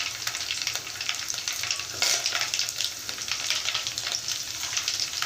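Garlic cloves and chillies fry in hot oil with a continuous bright sizzle and crackle, steady and close, with occasional stirring scrapes and no talk.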